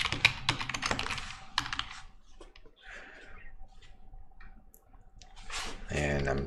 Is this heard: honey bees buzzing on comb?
no